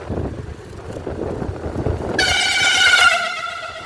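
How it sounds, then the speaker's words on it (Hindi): A loud, sustained vehicle horn blares over rumbling traffic noise, starting abruptly and holding steady for well over a second. "ये हॉर्न है ना, ये हूटर है"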